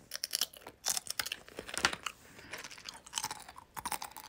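A person eating, with crunchy bites and steady chewing in quick irregular bursts, close and fairly quiet, with no talking.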